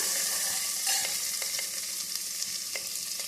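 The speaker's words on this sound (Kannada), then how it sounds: "ಆಮೇಲೆ ಜವಳಿಕಾಯಿ ಹಾಕ್ಕೊಂಡು ಇಷ್ಟನ್ನು ಸ್ವಲ್ಪ ಹೊತ್ತು ಫ್ರೈ ಮಾಡೋಣ" Cluster beans sizzling in a pan alongside onions and curry leaves, with steady frying hiss and repeated sharp stirring clinks of a spatula, no voices.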